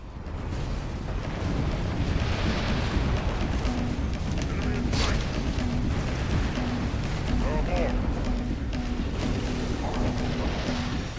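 A dense, continuous roar of explosions and rumble fills the Halo 2 battle, loud and sustained without a break, with a faint repeating tone running underneath.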